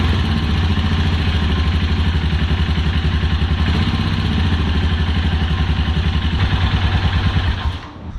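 A Royal Enfield Himalayan motorcycle engine idles right after an oil change, a loud, steady single-cylinder thump with mechanical clatter that drops away near the end as the engine is shut off.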